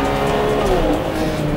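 Ferrari 599 GTB lapping the Fiorano test track, its engine a loud, steady roar close by with faint tyre noise, no voices over it.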